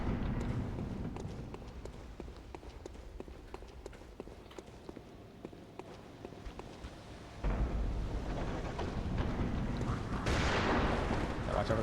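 Rapid gunfire in a video game, sharp repeated shots crackling over a busy background, with a louder burst of action near the end.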